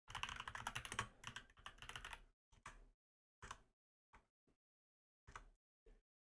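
Bursts of computer keyboard typing, dense and rapid at first, then breaking into short separated clusters of keystrokes with silent gaps, close and fairly quiet with no talking.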